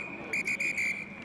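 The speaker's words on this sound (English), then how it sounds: "Shrill blast on the whistle" A referee at a schools rugby match between Haileybury and Llandovery College blows a series of four quick, shrill whistle blasts close by. A faint high tone and crowd murmur sit underneath.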